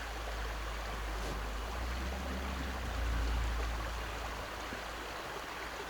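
A mountain creek rushes along in a continuous, broad hiss of flowing water, steady and fairly close, swelling slightly partway through with no voices.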